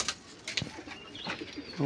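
Male Madras pigeon of an original, leg-tagged bloodline cooing: a few soft, low, close coos over faint background noise, with a voice briefly present.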